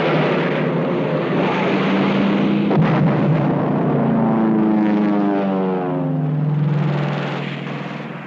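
American fighter planes of 1944 fly over in an air strike, a loud, sustained engine roar sweeping past with shifting pitch, the drone swelling and fading with no voices.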